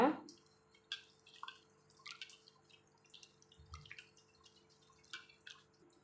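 Ivy gourds pressed to force out their seeds and then washed in water, with small drips and light splashes coming close and intermittently at moderate level, no talking.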